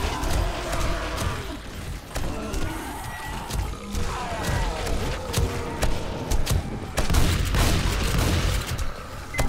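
Rapid bursts of gunfire in the survival zombie game 7 Days to Die, modded with Darkness Falls, with dense crashing impacts and thuds throughout, loud and continuous.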